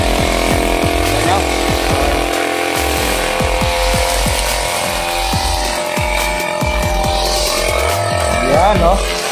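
A gas-powered grass cutter runs loudly nearby on a neighborhood cleanup, its engine droning steadily with repeated revving surges as it cuts, while people talk over it.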